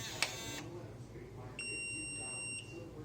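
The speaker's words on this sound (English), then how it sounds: "Beeps, says it's done." A Samsung SmartThings door lock gives a short electronic tone of about a second to signal setup is complete, preceded by a brief chirp, heard close and clear.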